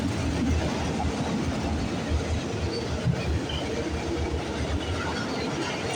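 A freight train rolls past at Galt, a continuous loud rumble of wagons on the rails with faint squeals and rhythmic wheel clatter, steady and near for the whole stretch.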